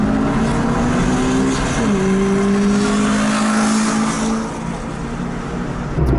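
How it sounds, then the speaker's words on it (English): A 1992 Honda Civic EG hatch with a swapped B18C engine, test pipe and Apexi World Sport 2 exhaust revs loud and close, its pitch climbing, dropping at a shift, then holding steady as the car drives on. "test pipe and an Apexi World Sport 2 exhaust. And it's actually not too loud either"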